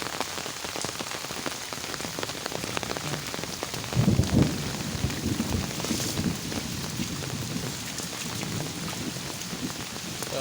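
Steady rain pours down in a village, pattering densely on surfaces with a brief louder swell partway through and no voices.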